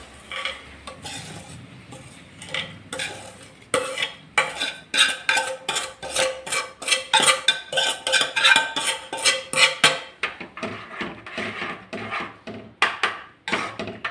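A metal spoon stirs roasted semolina into tomato upma in a pan, giving quick repeated scrapes and clinks that come in irregular bursts, with no voices.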